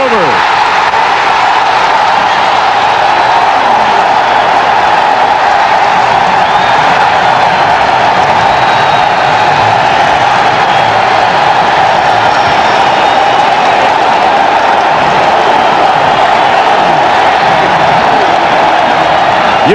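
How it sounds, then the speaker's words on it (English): A stadium crowd at Foxborough roars after a Patriots touchdown, a dense, loud, unbroken wall of cheering that holds steady throughout, with a commentator's voice faintly mixed in. "You could not comprehend the crowd noise here."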